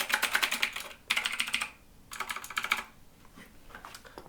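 Typing on a keyboard with mechanical switches: rapid close clacking keystrokes in three quick bursts, then a few sparser, quieter taps, with no voices.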